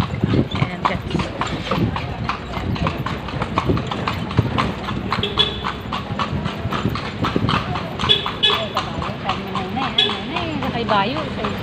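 Horse hooves clip-clop steadily along a street at Fort Santiago in Manila, a horse-drawn carriage passing close by, with people chatting underneath the rhythmic beats throughout.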